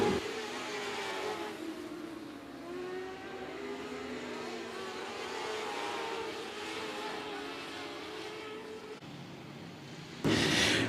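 Stock cars race around 105 Speedway in a night feature event, a faint, distant continuous engine whine that rises and falls as the cars circle, ending abruptly with a louder burst of noise.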